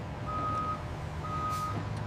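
A truck being unloaded gives off two evenly spaced electronic reversing beeps over a steady low engine rumble.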